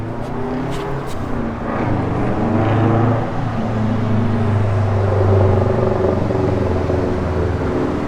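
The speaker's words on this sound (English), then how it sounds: "Good sounding Flowmaster dual exhaust." A 1965 Ford Falcon convertible with its original 289 V8, factory two-barrel carburetor and Flowmaster dual exhaust idles and rumbles steadily nearby, a deep, even burble with a slight swell midway.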